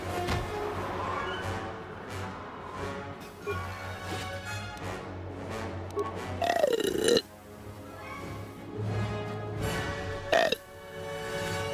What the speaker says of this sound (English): That's how Chewbacca sounds.